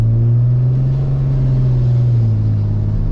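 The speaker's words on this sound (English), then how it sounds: "Let me just give it more gas." A truck engine revs under throttle, a loud, close, steady low rumble with a gentle pitch drift that rises and then eases off, with no voices.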